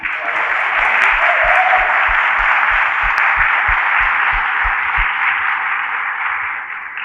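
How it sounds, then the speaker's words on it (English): A warm round of audience applause at a home front songs and stories program, steady sustained clapping for about seven seconds that tapers slightly at the end. "Let's give Elaine a warm round of applause."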